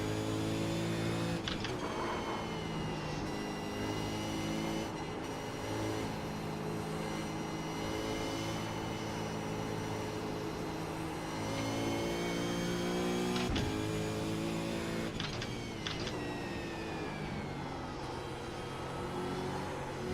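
A V8 Supercar in iRacing at Willow Springs revs steadily, its engine a sustained droning whine that climbs through gears with sharp shift breaks, loud and close throughout, with no talking.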